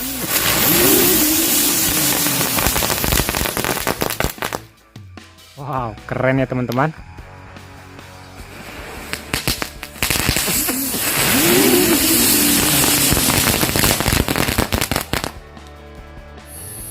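Indonesian firecrackers, a teratai pretek lotus with a dino mercon in its center, crackling and popping in dense rapid bursts at night, with whistling spins midway, loud and close, while someone talks over them.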